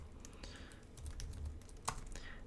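A command is typed on a computer keyboard at a terminal, heard as a few faint, scattered key taps over steady low background noise.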